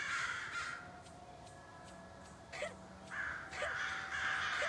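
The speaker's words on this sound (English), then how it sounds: "Man, that must have really pissed off the crows. I can hear them really hard now." Crows caw repeatedly in a game courtyard, with harsh calls coming in bursts over a steady ambient background, some louder and closer than others.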